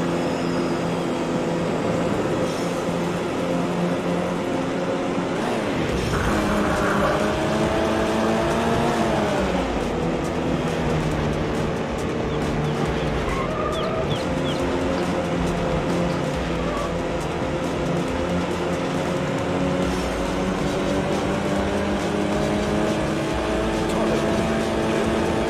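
In a racing video game, a race car engine screams at full throttle, a loud sustained roar with rising and falling pitch sweeps as it shifts, while someone talks over it.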